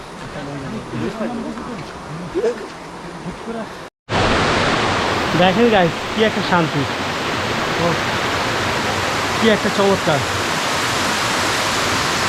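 Steady broadband rush of a hidden waterfall deep in Rangamati surges up loud and close after a brief quieter stretch, with someone talking over the continuous water noise.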